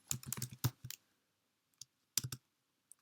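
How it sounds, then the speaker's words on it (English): Quick keystrokes clatter on a computer keyboard in a short burst while typing a Python command, a pause, then a few more taps, close and quiet. "then I can run my program by just typing Python"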